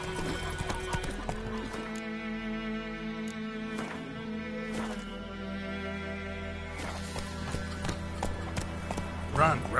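Roach, a horse in The Witcher game, gallops with rapid rhythmic hoofbeats and snorts, running under game music and intermittent dialogue from speaking characters.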